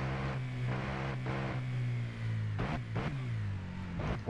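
A KTM 1290 motorcycle engine in the Ride 2 racing game holds a steady droning note, with a few brief revs or gear shifts rising over the hum.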